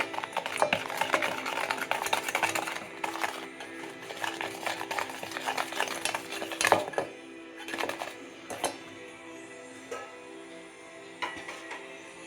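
Metal utensil clinks and scrapes against a bowl in irregular bursts as milk is stirred into a mixture, fairly quiet with brief pauses.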